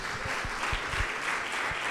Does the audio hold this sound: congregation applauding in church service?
yes